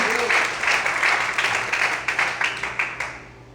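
A church congregation claps together in a rhythmic, roughly even beat, loud and full at first, then thinning and fading toward the end.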